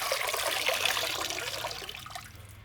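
Feathers being rinsed and wrung out by hand in water, handfuls at a time, during handmade shuttlecock production in an Indian village: steady close trickling and sloshing of water that gradually fades.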